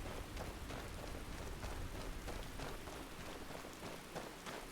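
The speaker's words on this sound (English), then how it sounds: "cold enough that the snow is still there and it's raining" Steady, dense video-game rainfall patters continuously on snow-covered surfaces in Skyrim, an even hiss with faint scattered drops, no voices.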